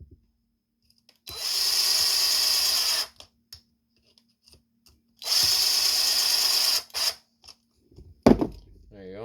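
A power tool whirs in two separate bursts of about two seconds each, tightening parts on a Traxxas TRX4 RC truck's rear axle, close and loud, with brief clicks between and a short spoken remark near the end.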